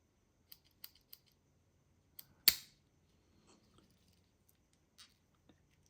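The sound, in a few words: small scissors on a pocket knife being handled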